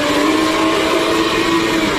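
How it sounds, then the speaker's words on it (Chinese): A car engine floored while the automatic transmission is left out of drive, so the car stays in place and gives a loud, sustained, droning roar with a steady pitch. "男子还想落跑，狂踩油门，车子发不动。原来男子忘记打低档，车子在原地发出巨响。"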